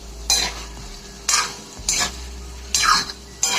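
A spoon scrapes local chicken around a kadai in about five separate stirring strokes, each a short, close scrape over a quiet background.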